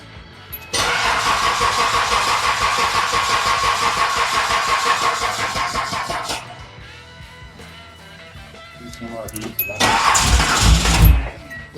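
A 1981 Datsun 280ZX cranks and catches on a newly fitted ignition cylinder and key, runs roughly, sags almost to stalling, then is revved up sharply; the engine is close and loud and no one speaks.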